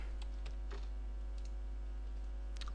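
Soft, sparse clicks of computer keyboard keys as a website address is typed, heard close but faint over a steady background hum.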